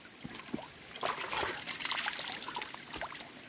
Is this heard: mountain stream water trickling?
yes